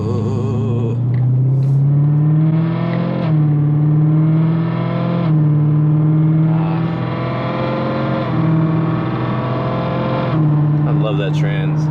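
BMW M3 with a DCT gearbox accelerates steadily from inside the cabin, its engine drone climbing through quick gear changes, each shift causing a brief dip before the tone rises again.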